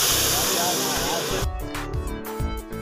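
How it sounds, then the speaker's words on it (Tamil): Dried red chilies and curry leaves hit hot oil for sambar tempering, giving a loud, steady steam-like hiss. After about a second and a half it breaks into uneven crackling pops and sputters. "கொஞ்சம் மிளகாய் வத்தல், கருவேப்பிலை சேர்த்து நல்லா கரிஞ்சு வந்ததும் பொரிஞ்சு வந்ததும் சேர்த்துக்க வேண்டியதான்"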